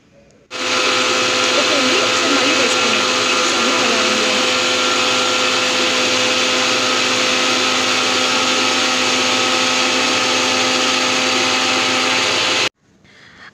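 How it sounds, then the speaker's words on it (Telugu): Kitchen mixer grinder whirring at high speed while blending a dry fruit juice with milk, a loud steady roar that starts abruptly, holds unchanged for about twelve seconds, then cuts off. "మిక్సీ కొంచెం బాగా స్పీడ్లో పెట్టాలండి, అప్పుడే మనకి బాగా ఆ జ్యూస్ అనేది కరెక్ట్గా వస్తుంది"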